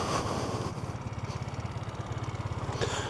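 A Buddy 125cc scooter engine runs at a steady, putt-putting idle with a quick, even pulse. It is close and fairly loud, with no talking.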